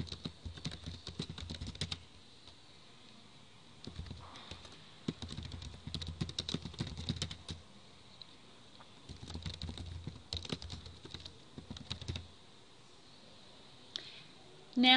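Someone types on a computer keyboard in bursts of rapid, close keystrokes separated by short pauses, fairly quiet and with no talking.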